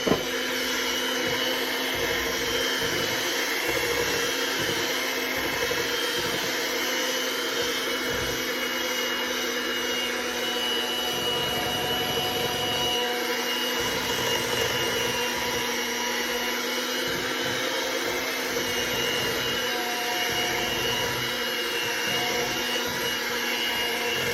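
Electric mixer beating summer squash pound cake batter with added flour, a loud continuous whirring drone that runs unbroken throughout.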